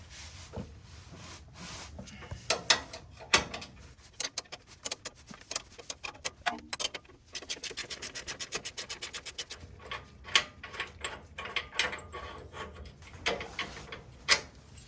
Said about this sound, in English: Just gonna get on here with this long box end 22, work it by hand.